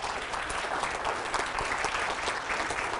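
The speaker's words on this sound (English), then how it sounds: "that's an awesome level 3 round of applause" A motivational talk audience claps in a full, energetic round of applause, thick and sustained throughout, with scattered louder claps standing out from the wash.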